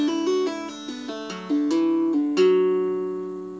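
A single instrument plays the opening of the tune The Frost Is All Over using hammer-ons and pull-offs, giving quick, smoothly connected notes. It begins with a strummed chord and then rings on a sustained final note.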